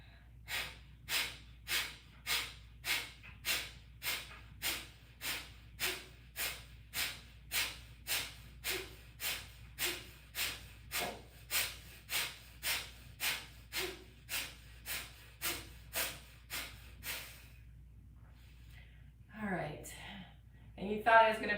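Rapid, forceful nasal exhales repeat in a steady rhythm during a pranayama cleansing-breath exercise, about two dozen sharp bursts, close and clear, ending with a few quieter breaths.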